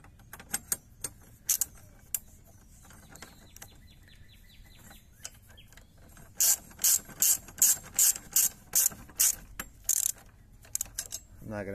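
Ratchet tightening seat bracket bolts inside a Ford Ranger, quick clicking bursts that turn into a loud, rapid, rhythmic run of ratchet strokes close by, with faint mechanical clatter and no talk.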